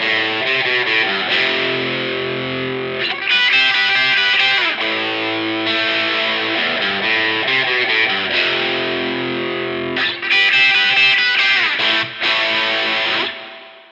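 Electric guitar in standard tuning on a Stanford Crossroad Marquee plays a riff through overdrive and reverb, loud sustained distorted chords ringing with roomy space, with brief breaks between phrases.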